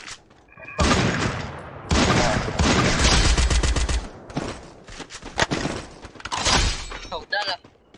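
Loud, rapid bursts of automatic gunfire in the Free Fire battle royale mobile game come in several dense volleys with short gaps, and voices are mixed in.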